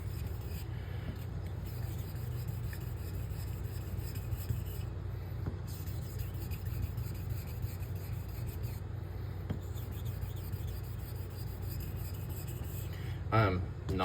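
Straight razor blade stroked over a Coticule hone with medium slurry and light pressure, a soft continuous rubbing and scraping heard up close through a steady background hum.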